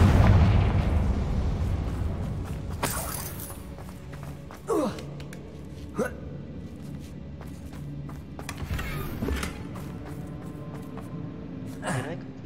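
The Confringo fire spell in the video game Hogwarts Legacy bursting in several short explosive pops spaced through the passage, set against a game soundscape with a voice heard over it.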